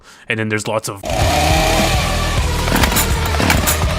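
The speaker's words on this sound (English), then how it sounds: "That's the sound of his chainsaw stalling." Cartoonish chainsaw stalling effect, a loud sputtering, rattling engine drone that runs steadily for about three seconds after a brief spoken phrase.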